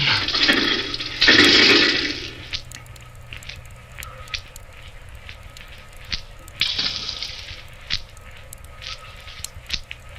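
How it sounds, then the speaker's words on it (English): Water splashes and rushes in a pit below, a sound effect in an old-time radio horror drama. A loud surge of sloshing opens, then scattered drips and gurgles follow, with a second swell midway and no speech. "Water. There's something down there."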